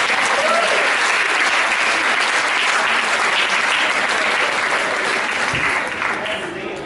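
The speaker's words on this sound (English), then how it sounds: "Get a round of applause" Loud, dense applause from an audience fills the room continuously, many hands clapping at once, tapering slightly toward the end.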